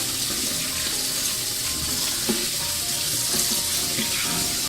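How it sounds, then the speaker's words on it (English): Cold tap water runs over peeled garlic and green onions in a sink while preparing Korean spicy chicken stew, a steady close hiss of flowing water with faint splashes and clinks, no one talking. "Rinse them with cold water."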